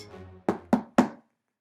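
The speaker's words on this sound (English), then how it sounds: "He knocked." Three firm knocks land on a wooden door in quick, even succession, close and resonant, following a faint low hum and then leaving silence.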